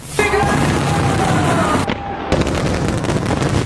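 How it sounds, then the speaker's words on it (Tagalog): New Year fireworks over the Sydney Harbour Bridge, a loud, continuous barrage of crackling bursts and booms with a brief lull near the middle before the dense popping resumes. "ito ang fireworks display na may 80 new positions ng Harbor Bridge"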